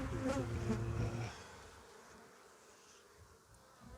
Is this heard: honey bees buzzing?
yes